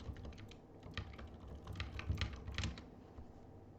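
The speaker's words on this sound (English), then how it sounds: "Let me just type tier 2 turrets gold." Fingers typing on a computer keyboard, a quick irregular run of soft clicking keystrokes close by, building to a denser burst before tapering off.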